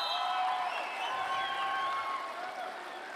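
Crowd applauding at a Friday night wrestling match, a sustained wash of clapping and crowd noise that slowly fades, with a commentator talking over it.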